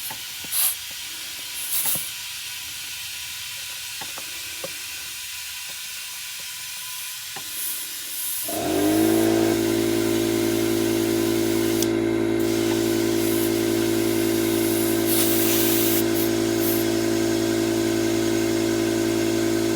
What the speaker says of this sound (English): We've got our air compressor pumped up. We just hook it up to the tire